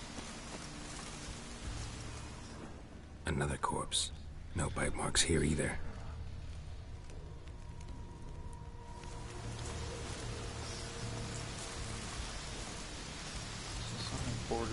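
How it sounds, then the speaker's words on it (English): Steady rain falls in a video game, a continuous hiss of drops on surfaces that carries on beneath brief spoken lines. "Looks like rain."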